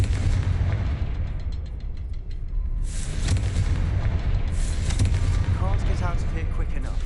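A Confringo fire spell bursts in Hogwarts Legacy with a heavy booming blast and a broad crackling rush, then further rumbling hits follow over a dense, continuous game soundscape.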